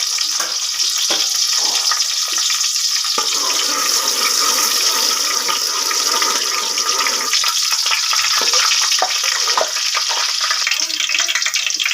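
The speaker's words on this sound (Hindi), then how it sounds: "इसके बाद हम इसमें डालेंगे लहसुन बारीक कटा हुआ।" Finely chopped garlic fries in hot ghee, a loud, steady broadband sizzle with a watery, hissing texture that runs unbroken, with a few brief clicks over it and no talk.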